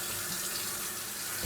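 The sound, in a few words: cold water tap running into plugged sink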